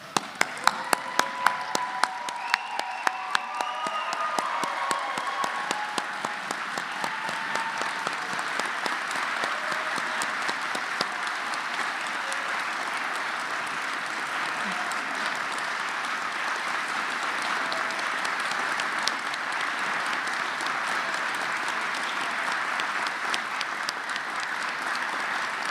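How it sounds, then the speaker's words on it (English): A large audience at a graduation-style ceremony applauding steadily, dense clapping that starts with a few sharp claps and then holds an even roar throughout. "Please stand and give them a round of applause."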